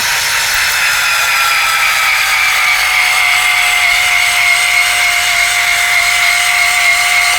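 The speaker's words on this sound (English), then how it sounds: "Okay, so now we're going to draw the string back." The electric cocking motor of a Ravin R500E crossbow drives the string back with a loud, close, steady high whine that holds a constant pitch for the whole stretch, with no other sound.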